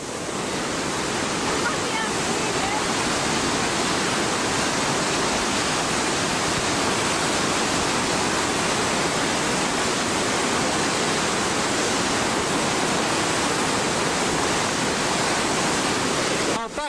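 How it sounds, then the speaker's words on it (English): Water rushing from a power station outflow makes a loud, steady roar, broad and constant like a torrent, filling the whole stretch without letting up. "This is where the water comes out."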